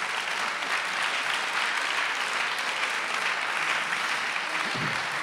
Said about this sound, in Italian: farei un applauso anche al pianista